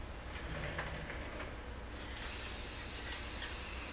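Tremclad clear gloss paint sprays from an aerosol can onto a Case snowthrower in a steady, close hiss that starts after a quieter stretch of background noise and continues loud to the end.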